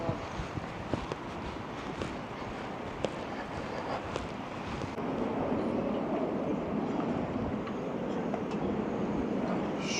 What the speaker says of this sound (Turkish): Acayip derecede bir rüzgarın uğultu sesi var.